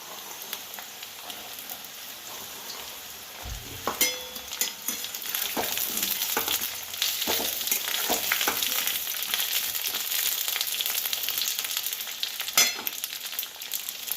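Green peas and potatoes sizzle steadily in hot oil in a pan as part of a Bengali kohlrabi curry, with sharp spatula scrapes and stirring clatter cutting through the frying hiss close up.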